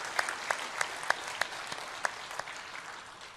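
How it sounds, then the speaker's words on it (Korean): A church congregation claps during a Sunday worship service to welcome newcomers. The applause is soft and steady, with a few sharper claps keeping a loose, even beat as it gradually fades. "새로 오신 분을 박수로 환영합니다."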